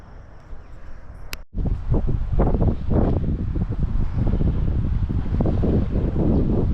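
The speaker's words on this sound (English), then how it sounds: "That's a little bit windy today" Steady, loud wind buffeting the microphone in Bowen, with a roaring broadband rush and gusty rumbles throughout.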